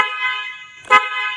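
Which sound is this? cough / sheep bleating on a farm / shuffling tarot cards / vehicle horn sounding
vehicle horn sounding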